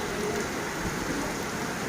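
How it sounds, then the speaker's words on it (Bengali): Heavy rain falls during the Puja festival season, a dense, continuous hiss of downpour that stays loud and even throughout, with no voices over it. "দেখো বন্ধুরা, কত বৃষ্টি।"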